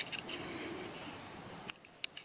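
Loud cicadas in trees at a lakeside campsite in Bienville National Forest, a continuous high buzzing drone with a few brief sharper chirps, steady and close with no talking.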